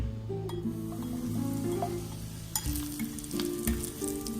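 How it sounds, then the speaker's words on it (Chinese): Hot oil poured over chili flakes and sesame seeds in a bowl sets off a crackling sizzle, close up, with a few clinks of kitchenware mixed in. "将剩余的热油倒入碗中"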